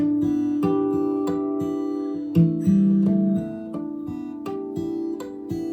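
Cascading harmonics plucked on a Martin SC13 acoustic guitar ring out one after another, bright tones overlapping in a steady flowing pattern, heard alone at moderate volume.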